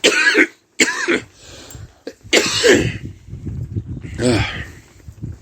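Harsh, hacking coughs and throat clearing after smoking, in several loud bursts, close up, with short pauses and raspy breathing between them.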